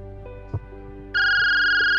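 A telephone starts ringing as someone calls the doctor, a loud steady electronic ring tone that switches on abruptly after a quiet stretch with a soft tap and faint low tones.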